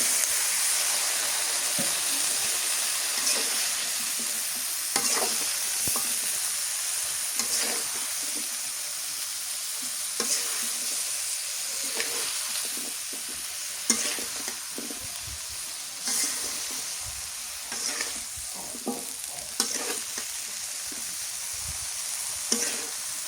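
Spices frying in oil in a pan and stirred steadily, a loud, even hiss of sizzling broken by frequent scraping and clattering stirring strokes, no voices.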